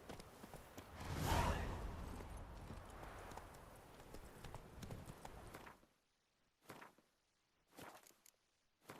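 Hooves of Roach, Geralt's horse in The Witcher 3: Wild Hunt, clop along steadily at first with a swell of movement. After that come a few separate, clearer hoofbeats with quiet gaps between them.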